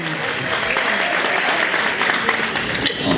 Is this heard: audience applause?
yes